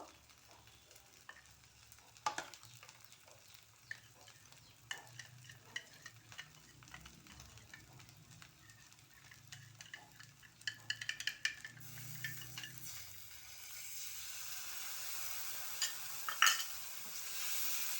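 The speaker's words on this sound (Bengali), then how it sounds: "এবার এটাকে ভালো করে নেড়ে চেড়ে একটু রান্না করে নেব।" A paste of turmeric, chilli, coriander and black pepper powders mixed with water is stirred in a pan, soft scraping and clinking of a utensil over a quiet sizzle that swells louder toward the end, close up and without talking.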